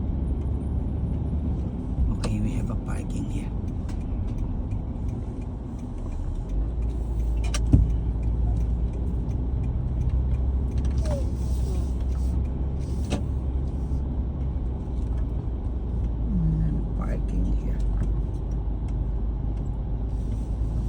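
A car is driven into a parking space outside a Petco, heard as a steady low engine and road rumble from inside the cabin, with occasional clicks and thumps.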